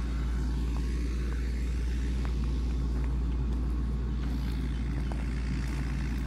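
A CAT 140K motor grader runs over wet crushed rock, a steady low engine rumble and drone with faint scattered crunches of stone, continuous and fairly close throughout.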